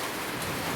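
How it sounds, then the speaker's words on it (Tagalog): Heavy rain in a rural farm setting, a dense, loud, continuous hiss filling the short moment with no voices. "Ang ingay guys ng ulan"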